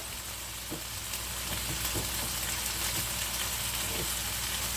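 Potatoes sauté in olive oil in a pan for Italian peperonata Calabrese, giving a steady, dense sizzle and crackle with scattered pops throughout, close and continuous.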